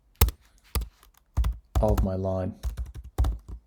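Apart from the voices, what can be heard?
typing on a computer keyboard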